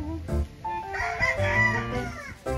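A rooster crows once nearby, a loud drawn-out call with clucking and rustling around it.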